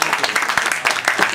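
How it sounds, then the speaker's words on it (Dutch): Audience applause at a political party event, many hands clapping close and fairly loud in a dense, uneven patter for a short burst before the next speaker begins. "Dus geef een applaus alsjeblieft voor Neftis."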